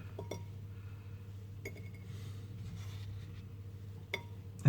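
Homemade crab chip slices are set down on a plate, giving a few soft, brief clinks spaced apart over a steady low background hum.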